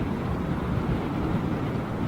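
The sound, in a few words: constant wind at an airport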